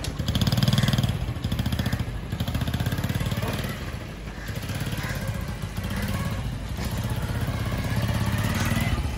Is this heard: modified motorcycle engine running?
yes